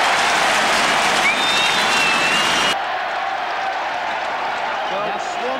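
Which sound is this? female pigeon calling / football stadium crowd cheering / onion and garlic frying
football stadium crowd cheering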